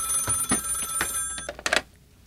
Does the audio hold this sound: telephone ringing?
yes